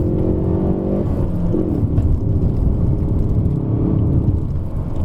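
A Hyundai i30N with 19-inch wheels is driven in second gear through a corner on the Genting hillclimb road, its engine holding a loud, steady droning hum with a deep rumble, close inside the cabin and with no talk.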